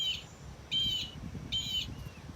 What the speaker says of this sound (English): So sometimes if you squeeze these birds outside, the other birds around us will start talking back to the plush bird